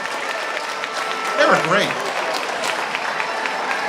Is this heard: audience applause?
yes